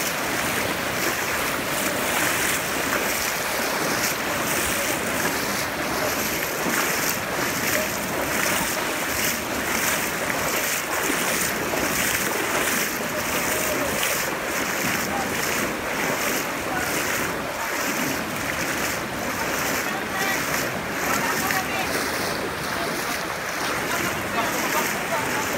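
The rising Mandulog River in Iligan City during a typhoon, a loud, continuous roar of rushing water mixed with wind buffeting the microphone, steady from start to finish, with voices partly audible beneath it.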